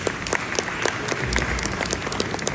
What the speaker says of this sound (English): another round of applause for John, thank you.